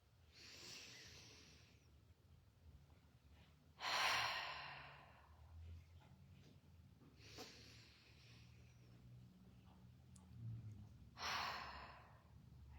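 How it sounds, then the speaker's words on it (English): Slow deep breaths taken during a guided meditation, about four long airy inhales and exhales spaced several seconds apart, close and soft over a quiet low background hum. "take a couple of deep breaths"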